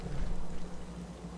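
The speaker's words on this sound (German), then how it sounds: "Die Mutti steht da voll im Regen." Rain falling in the video game Fallout 4, a steady, soft and even hiss of rainfall with no talking.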